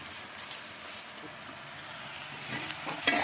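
Leutia saag greens fry in a pan over a medium flame, giving a soft, faint, continuous sizzle with a few small crackles toward the end.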